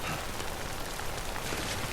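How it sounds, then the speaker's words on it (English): Timefall rain in the video game Death Stranding, a dense, even patter of rain falling on surfaces, steady and moderately loud with no voices. "So timefall is like rain."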